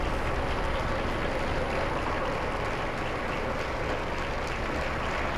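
Members of Pope Benedict XVI's household applaud him at the Vatican, a sustained, uniform roar of many hands clapping that holds level throughout, with no speech on top.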